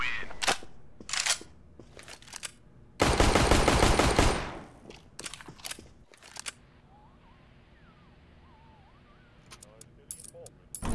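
CS:GO competitive match gunfire: several quick bursts and one long sustained spray of rifle fire, loud and close, separated by quieter gaps with faint in-game sounds.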